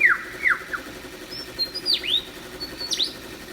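Lyrebird mimicking the calls of other bird species in forest, a series of sharp descending whistles and chirps, some repeated, clear and near over a quiet background.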